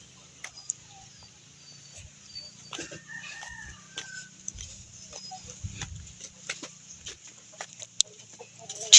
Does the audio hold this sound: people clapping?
no